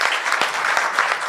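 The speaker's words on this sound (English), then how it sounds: "So a round of applause for the panelists" A conference audience at the Surgical Society of Kenya annual scientific meeting gives the panelists a short burst of close, dense applause, with a few sharper individual claps standing out.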